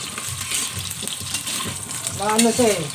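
Chicken pieces for afritada sizzle and fry steadily in a hot pan, with stirring scrapes throughout and a brief whistling tone near the end.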